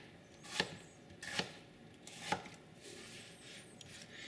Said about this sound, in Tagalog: Hiwain natin yung kamatis, pati yung itlog na maalat